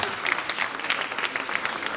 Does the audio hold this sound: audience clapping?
yes